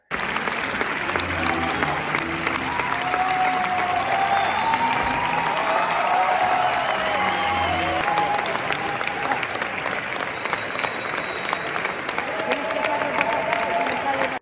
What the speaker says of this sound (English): after the films, people not just clap, but also pay respect at the exit as the cast and crew leave